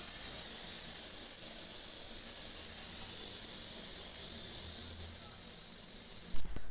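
Rice dry-roasting in a pan for pulao gives a steady, even hiss that stays level throughout, ending with a brief knock near the end.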